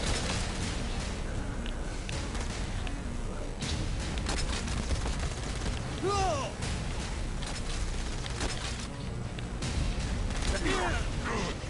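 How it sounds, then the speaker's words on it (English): Rapid, continuous gunfire from the Armchair Geddon weapon in Saints Row: Gat out of Hell rattles along with bursts and booms, mixed with game effects while a person talks over it. "I got a gun called the Armchair Geddon"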